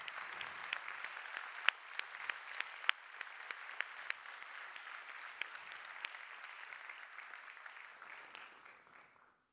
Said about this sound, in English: So I'm going to start by clapping for these people.